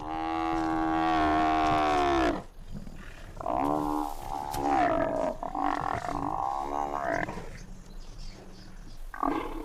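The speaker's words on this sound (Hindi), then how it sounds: "ये टक्कर है शेरनी और भैंस की।" A lioness fights a buffalo in the African wild. Loud, close roaring and harsh bellowing growls come in long strained bursts with short breaks, and there is no talk.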